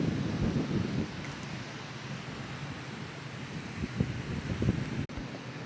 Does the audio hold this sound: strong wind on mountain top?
yes